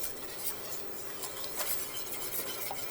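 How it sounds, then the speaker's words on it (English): A spoon stirs a flour-and-butter roux in a pot for mac and cheese, a steady close scraping and swishing with small clinks against the metal. "I'm going to stir the hell out of it so that there's no lumps in here"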